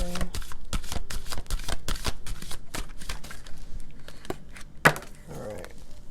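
A deck of oracle cards being shuffled by hand, a steady run of crisp riffling and slapping strokes close up, ending in a sharper snap as a card drops out, with no talking.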